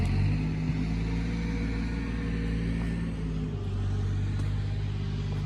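A manual-transmission car drives along with a steady low engine rumble and road noise from inside the cabin, the engine tone shifting slightly partway through as if changing gear.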